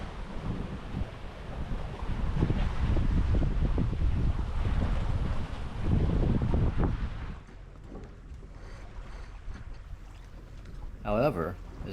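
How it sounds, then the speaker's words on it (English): Steady wind buffets a sailboat as it heads into a harbor, a loud roaring rush that drops away after about seven seconds, leaving quieter water and boat noise with a brief whistling tone near the end. "There were decent winds as I approached the harbor zone"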